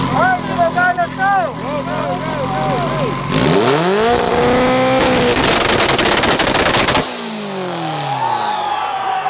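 A Mitsubishi Evo on a two-step launch limiter at a car show, very loud and close, the engine held at high revs with rapid machine-gun crackling pops, a sharp rise in pitch, then an abrupt cut as the revs fall away.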